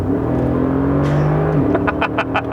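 2017 Mercedes G63 AMG kicking down in sport mode, a loud steady engine drone heard from inside that rises in pitch, then a shift, then a few sharp bursts toward the end.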